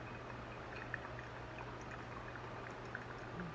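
Final pour of water over coffee grounds in a flat bottom brewer, a soft continuous trickle close by with a faint steady hum beneath and no talking.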